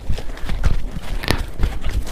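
Hooves of a mare ridden across a marshy farm pasture while driving cattle, stumbling as she goes; an uneven, close clip-clop of hoof strikes over steady outdoor rumble, with no talking.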